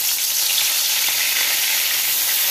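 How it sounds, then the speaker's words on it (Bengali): Marinated rui fish pieces fry lightly in mustard oil, giving a steady, dense sizzle that stays close and even throughout, with no voices. "ম্যারিনেট করা মাছগুলোকে আমি হালকা করে ভেজে নেব"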